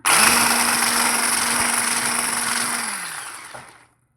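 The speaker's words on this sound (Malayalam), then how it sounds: "ഓയിൽ ചേർത്തിട്ട് നമുക്ക് ബീറ്റ് ചെയ്തെടുക്കാം" An electric beater mixes plum cake batter with sunflower oil in a steady high whine that runs for several seconds, then slows and winds down to silence.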